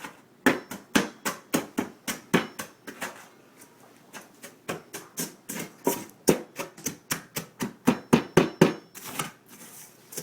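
Breadcrumbs for a Cuban breaded steak being mixed by hand with herbs, making a rapid series of sharp, close, even taps and crunches that repeat steadily, alone with no talk.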